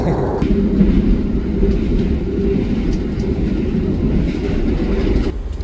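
KA Menoreh economy-class train running along the rails, a loud, steady close rumble with faint clickety-clack from onboard, continuous throughout.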